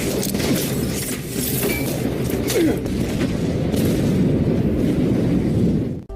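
Film grenade explosions give a dense, rumbling wall of blasts and debris that holds steady for several seconds and then cuts off sharply.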